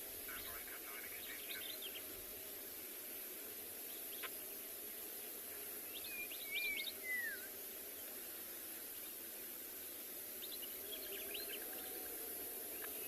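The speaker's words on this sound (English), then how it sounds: "All these beautiful bird calls in the background as well." Faint bird calls chirp and whistle intermittently over a steady hiss of background noise on a morning safari in South Africa, distant and soft, with a clearer warbling call in the middle.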